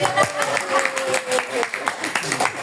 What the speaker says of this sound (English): This is the part where you also clap for me.